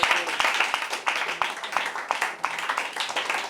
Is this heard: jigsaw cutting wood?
no